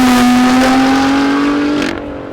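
A Lotus Evora GT430 pulls hard on the road, its engine note rising in a smooth, loud, climbing tone for about two seconds before abruptly easing off as the throttle lifts.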